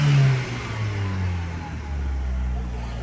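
A Chrysler PT Cruiser engine revs and falls back near the microphone, a throaty rise and drop with possible exhaust pops, voices talking faintly alongside.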